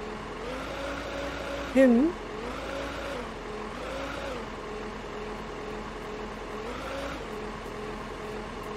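Game vehicle engine from Beer Factory drones steadily at a low idle, with a brief voice exclamation near the start.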